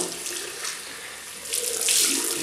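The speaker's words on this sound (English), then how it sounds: "So I'm just going to rinse that now" Tap water runs steadily into a sink for rinsing after a shave, a close, continuous splashing hiss that swells slightly near the end.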